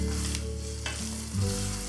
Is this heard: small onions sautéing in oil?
yes